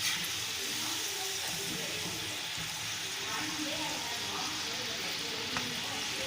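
Kodubale, a crisp ring-shaped snack, frying in hot oil with a steady, even sizzle and fine bubbling throughout, fairly close and without talk.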